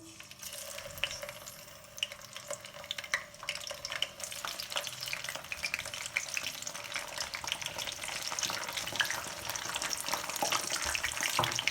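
Halved tomatoes sizzle and crackle in hot oil, a dense steady frying hiss with scattered pops, close and continuous without any voices.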